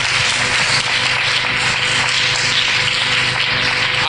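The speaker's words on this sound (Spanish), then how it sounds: "Fuerte los aplausos." Church congregation applauding together during a worship service, a dense, steady wash of clapping that fills the whole stretch at a loud, even level with no pauses.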